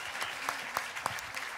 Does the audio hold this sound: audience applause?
yes